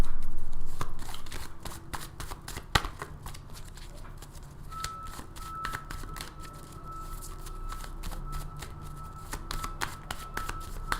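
A run of crisp, rapid tarot card riffles and flicks, close up, with brief pauses between bursts and a faint steady hum underneath.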